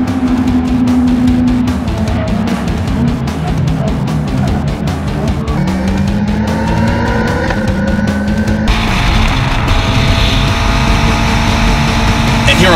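Race cars battle at Circuit of the Americas, with loud engines droning and shifting pitch as cars run side by side up the main straight, mixed with dense rumbling track noise throughout.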